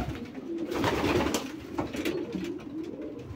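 Pigeons coo softly and repeatedly inside a pigeon loft, low throaty calls overlapping close by with faint rustling in the background.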